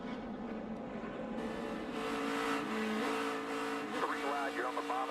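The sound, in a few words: NASCAR race car engine heard on board during a wreck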